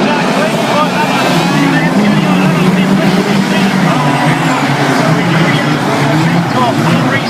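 Race cars roar down the back straight in a 2012 40-lap race, a dense, continuous engine drone at close range and high volume. A commentator talks excitedly over it throughout.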